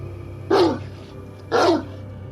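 A dog gives two sharp, loud barks about a second apart, fairly close, over a low steady background hum; no clear growl follows.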